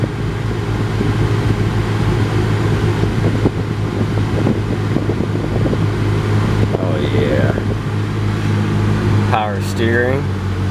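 A 1995 Honda Civic idles with its air conditioning compressor running, giving a steady low engine hum with a constant drone, and faint high squeaks and chirps near the end.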